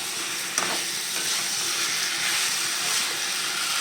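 Steady hiss and sizzle of fried potatoes and duck eggs being stir-fried in spice paste in a hot pan, with occasional scraping from stirring, continuous throughout.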